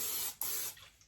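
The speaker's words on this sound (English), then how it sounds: "I have my cooking spray. So I'm just going to spray my pan." Two short hissing bursts of cooking spray hit a pan up close, the second trailing off into quiet.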